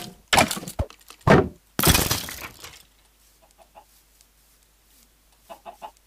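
Minecraft chickens give a few soft, faint clucks after a couple of loud crashing, breaking bursts at the start, with the clucking scattered and quiet toward the end.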